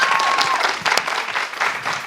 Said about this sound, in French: Ici, on applaudit pour ça déjà.